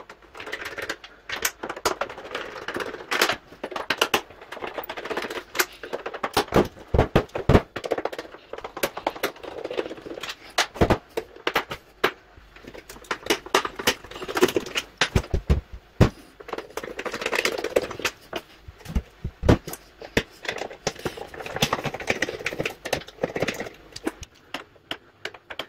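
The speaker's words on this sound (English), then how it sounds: "you got to see me take the top screws out" Screws being removed from a PS3 console, heard as a rapid series of sharp clicks, ticks and small metallic rattles from a screwdriver, dense and close, with no talking.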